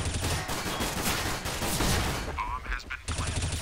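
Rapid bursts of gunfire fill a Counter-Strike tournament match, loud, dense fusillades with a brief lull near the end while a caster talks excitedly over the action.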